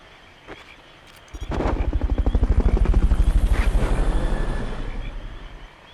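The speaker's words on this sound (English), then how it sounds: "Fulton Recovery helicopter is complete." Fulton Recovery helicopter in the video game Metal Gear Solid: Peace Walker, a loud rapid rotor thump that kicks in abruptly, pulses steadily for several seconds and then begins to fade.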